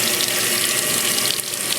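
A GE top-loading washing machine sprays water into the drum with the lid lifted, a steady loud hiss of spray with no talking.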